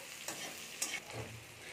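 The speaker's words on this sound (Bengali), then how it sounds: "হালকা এখানে একটু ভেজে নিচ্ছি যাতে রসুনের গন্ধটা চলে যায়" Chopped garlic fries quietly in a pan as a utensil stirs and scrapes it in a few brief strokes over a soft, steady sizzle.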